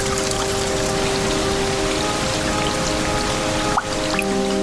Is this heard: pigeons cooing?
no